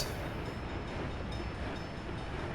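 Train passing in the city-building game Workers and Resources, a steady, dense rumble and rolling noise at constant loudness throughout, with no talk.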